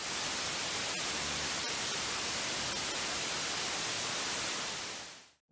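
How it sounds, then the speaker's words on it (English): Steady hissing static fills the whole stretch at high level, like a television left on with no signal, with a couple of faint clicks before it cuts off abruptly. "I still hear the static"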